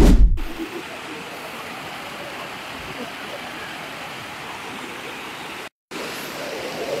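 A cold river and small waterfall at Hiluan Falls in Kalinog rush with a steady broadband roar, continuous and close, briefly cut by a short dropout near the end.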